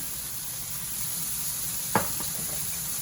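Kielbasa sautéing in a pan as butter is added, a faint steady sizzle and hiss throughout with one brief knock near the middle.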